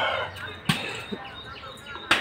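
Small chicks peep faintly in short high chirps amid outdoor background noise, with a few sharp knocks or thumps nearby.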